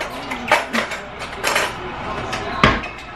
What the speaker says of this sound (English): Okay, so we go ahead and give it a little stir.